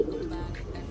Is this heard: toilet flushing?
no